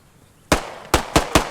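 Bursts of gunfire from a Bren light machine gun in the WWII shooter Post Scriptum: four sharp, loud reports, a lone shot followed by a quicker run of three, with no voices.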